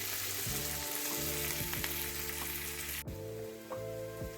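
Small onions and curry leaves sizzle in a hot pan, a dense continuous frying hiss under a steady background hum, with a brief clatter partway through.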